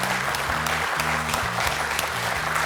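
Studio audience applause on a French quiz show, steady loud clapping that fills the whole clip without a break, with no speech over it.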